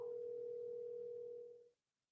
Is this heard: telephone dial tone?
yes